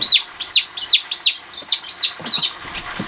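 Baby chicks peeping in a rapid series of about seven high, close, bright chirps in an even rhythm, with soft rustling underneath.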